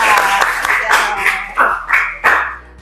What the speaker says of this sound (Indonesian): Kita kasih aplaus untuk Nisa.